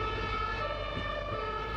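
A fire engine siren on a street in Bosnia, a steady wailing tone with harmonic bands sounding continuously and fairly loud, with traffic rumble underneath.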